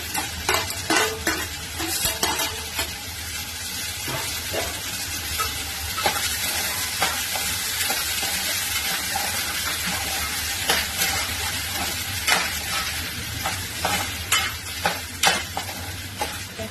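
Tomatoes fry in hot oil with onions and spices for a Kokan-style chicken thali, a steady close sizzle broken by frequent sharp spatters and stirring scrapes throughout.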